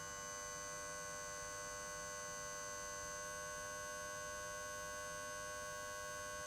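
Livewell pump on a boat, cycled by a timer, giving a steady electric hum and buzz with constant tonal whine throughout, faint and unbroken.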